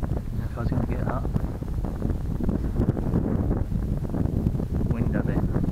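Gusty wind blows steadily across the microphone outdoors on a windy day at a model jet flying field, a continuous low rumbling buffet throughout.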